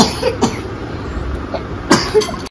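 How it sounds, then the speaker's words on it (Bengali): A young girl coughs twice, close and fairly loud, with a short pause between the two harsh bursts. "ওর কিন্তু এখনো অবধি কাশিটা কমেনি, কাশিটা এখনো একটু একটু আছে।"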